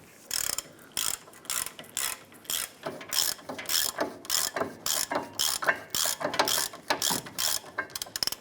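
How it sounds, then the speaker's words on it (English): A ratchet wrench with a 17mm socket loosens brake caliper bracket bolts on a 2008-2013 Nissan Rogue, making loud, close bursts of rapid clicking in an uneven back-and-forth rhythm, with no speech. "Using a 17mm socket, go ahead, loosen and remove the caliper bracket bolts."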